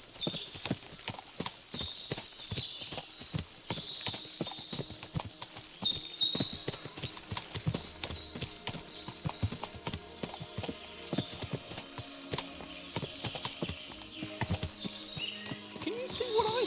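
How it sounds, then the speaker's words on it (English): Horses in the medieval role-playing game Kingdom Come: Deliverance II, hooves clip-clopping in a steady, dense patter throughout, with repeated high neighs and whinnies layered over them at a moderate distance. "Ah, what a lot of horses."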